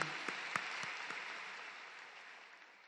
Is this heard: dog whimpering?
no